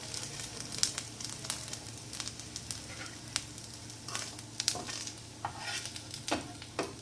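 Potato vadas for a fasting-style dahi vada fry in hot oil close by, with a soft steady sizzle. Scattered sharp scrapes and clicks of stirring break in at irregular intervals.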